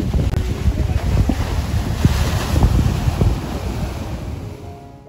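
Surf rolling in at Kappad Beach, a steady broadband roar of breaking waves with wind buffeting the microphone, loud and continuous before easing slightly at the end; no voices.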